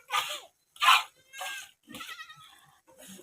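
A goat and its kids bleat at a farm in a run of loud, close, separate calls with short gaps between them and no talking over them.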